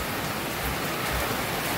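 Heavy rain pours steadily during a flood, a dense, even hiss of water falling close by with no pauses.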